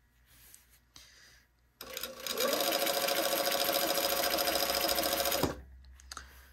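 A sewing machine stitches the center back seam of a garment lining at a 3/8-inch allowance, running in one steady, loud burst of about three seconds between quieter handling noises.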